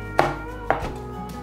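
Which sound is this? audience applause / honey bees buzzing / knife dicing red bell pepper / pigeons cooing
knife dicing red bell pepper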